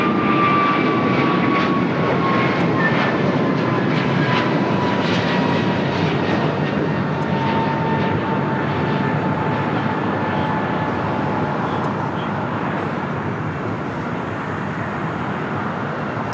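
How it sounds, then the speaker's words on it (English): An American Airlines Airbus A321neo jet at LAX, bound for Reagan National, roars loudly and steadily for the whole stretch, its engine whine slowly falling in pitch as it passes. "That flight heading to Reagan National, American Airlines Flight 1240. It's an A321neo."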